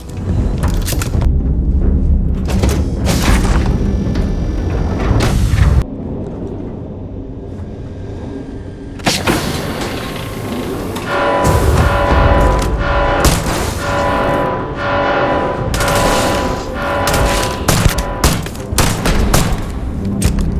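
Gunfire and explosions from the Starfield video game, a sci-fi shooter fight against robots, with dense bursts of shots and heavy booms filling most of the stretch, a brief quieter lull midway, then renewed rapid firing.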